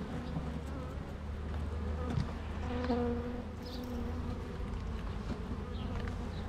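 Honey bees of a dark local black strain hum steadily at an opened old hive with darkened comb, a dense close buzz throughout with individual bees passing near.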